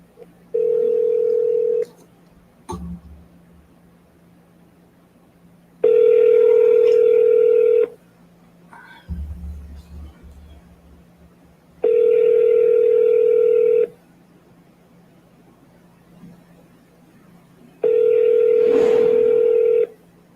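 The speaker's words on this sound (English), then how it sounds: "I'll keep calling. And I'll use my cell phone this time." A cell phone call rings out: four steady two-second ringing tones spaced about six seconds apart, with faint clicks between them and no voices.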